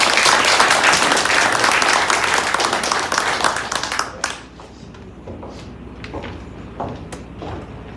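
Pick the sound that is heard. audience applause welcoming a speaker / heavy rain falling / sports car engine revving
audience applause welcoming a speaker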